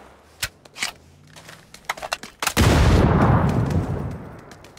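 Grenade explosion in PUBG: scattered sharp gunshots and clicks lead into a sudden heavy blast whose rumbling decay fills the last two seconds, fairly close and loud, with no talk.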